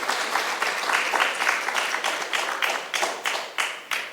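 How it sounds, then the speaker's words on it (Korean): Church congregation applauding during a Sunday worship service, a steady wash of many hands clapping for about four seconds with rhythmic swells. "여러분들이 또 박수로 격려해 주시기 바랍니다"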